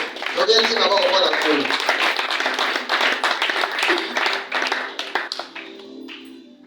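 A church congregation claps and applauds in a continuous burst of many hands during a sermon, the applause thinning toward the end as voices mix in.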